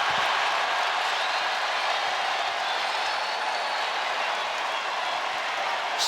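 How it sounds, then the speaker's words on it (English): Crowd at a basketball arena in Raleigh during an NCAA men's first-round game, a steady loud roar of cheering and applause that holds for the full stretch without a break. "Fan favorite reaction from the crowd"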